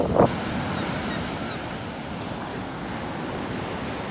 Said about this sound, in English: Those big waves.